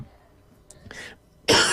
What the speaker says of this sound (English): I just need to clear my throat